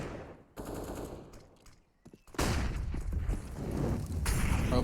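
Rapid automatic gunfire rattles out in bursts during a pro Counter-Strike match, a short opening volley, a lull of scattered shots, then sustained dense firing to the end, with no voices.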